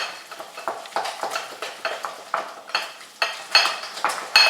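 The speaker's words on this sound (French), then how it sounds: "une fois que c'est mélangé dans le plat comme ça, on redonne un petit coup pour refroidir la pâte" Hand-made choux pastry dough beaten in a dish to cool it, a quick regular series of close, sticky scraping and tapping strokes of a utensil against the dish, with no talking.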